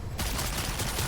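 Rapid burst of artillery-style rocket launcher fire in the online game Lost Ark, a dense crackling volley that starts abruptly and stays loud and continuous for about a second.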